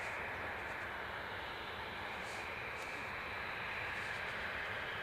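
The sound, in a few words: airplane departing Edinburgh Airport for London Stansted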